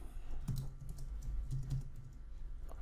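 Quiet, close typing on a computer keyboard, a short burst of soft irregular key clicks with small pauses.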